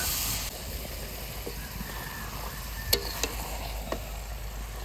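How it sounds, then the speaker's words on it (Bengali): Meat and potatoes hit hot spice paste in a pan, setting off a continuous loud sizzle and hiss close by, with a few light clinks of a spoon stirring through it. "মাংস আর আলুটা একসঙ্গে দিয়ে দেবো"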